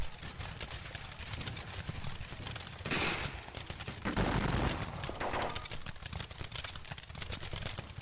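Musket fire crackles in a Civil War battle in the game Campaign Gettysburg at the Second Battle of Winchester. Distant scattered shots rattle continuously, and heavier volleys swell briefly near the middle. No one speaks.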